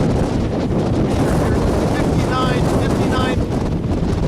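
Strong desert wind in Ocotillo buffets the microphone with a loud, constant roaring rumble, gusting without pause, while faint tonal whistles flicker through the middle.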